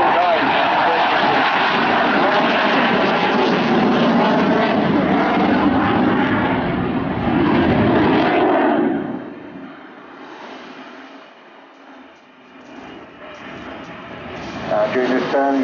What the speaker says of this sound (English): During this turn, he's slowing the jet down, and the undercarriage is coming out as well.